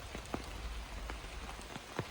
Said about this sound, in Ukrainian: Така ось атмосфера тут в чорному лісі дощ іде просто без перестану.